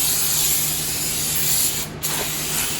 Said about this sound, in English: And you spray them with your brake cleaner.